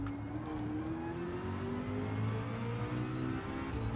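Race car engine in the Gran Turismo video game on Grand Valley Highway 1, an 850PP Vision Gran Turismo car, droning steadily at high revs with rising pitch as it downshifts through a curve, loud and continuous with no talk.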